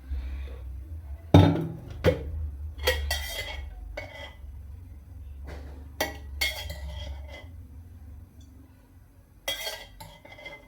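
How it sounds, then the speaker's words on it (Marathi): A kadai sits on a gas stove as oil is added, with sharp metal clinks and clanks of the pan and utensils in a few scattered bursts over a quiet kitchen background. "आता तेल टाकून घेते."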